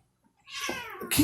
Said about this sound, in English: We'll have to listen to cats play now.